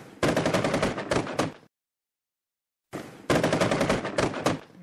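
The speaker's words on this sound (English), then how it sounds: "Gunfire erupted on the streets of the Iraqi city" Two bursts of rapid automatic gunfire on a city street in Mosul, Iraq, loud and sustained, split by a stretch of silence.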